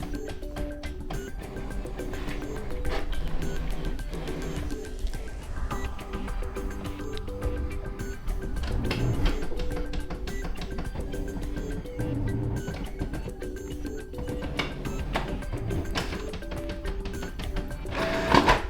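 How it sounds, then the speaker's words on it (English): A Brother MFC printer runs a copy job, a busy sequence of mechanical whirs, clicks and rhythmic feed ticks with rising and falling motor tones, close and moderately quiet, without speech. "it's printing right now without any issues"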